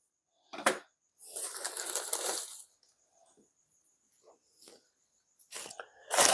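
Crispy dry leaves crunch and crackle inside a tarantula enclosure in short, close bursts, one longer rustle and several brief crinkles separated by quiet gaps.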